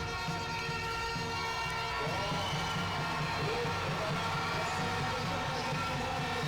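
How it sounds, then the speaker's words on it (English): A crowd cheers and shouts at an IFSC combined climbing competition in Toulouse during the men's boulder qualification, a steady loud roar with whistles and a commentator talking over it. "the crowd's gone crazy again"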